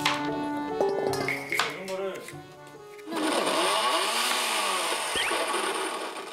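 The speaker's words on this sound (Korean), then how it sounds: "그 시끄럽게 갈면 어떡하냐. 조용히 갈아야지." A grinder or blender processes ingredients for kimchi, switching on about halfway through as a loud, steady broadband whir that holds to the end, following a stretch of clattering kitchen sounds and voices.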